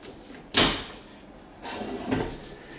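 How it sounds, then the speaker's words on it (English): The door of a Whirlpool PowerClean 6 dishwasher opens with a sharp latch clunk, followed about a second later by a longer scraping, rumbling swing as the door lowers, close and moderately loud. "Open the door."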